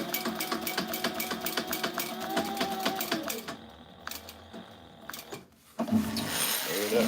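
Industrial sewing machine with a size 18 needle and Tech 70 thread stitching tactical gear, a fast steady rhythmic clatter for about three seconds, then slower intermittent stitches, clicks and handling noises, close and clear.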